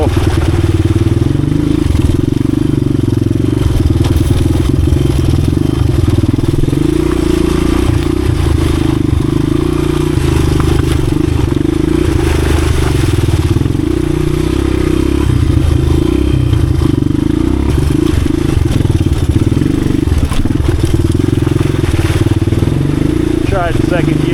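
A 1986 Honda XR200R dirt bike ridden on a slippery trail, its engine droning loud and steady at close range with small throttle changes and clattering over rough ground, while a rider talks over it.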